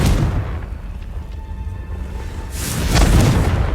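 A Confringo blasting spell in Hogwarts Legacy explodes with a loud, deep boom. A broad rumbling burst swells near the end, with no talk over it.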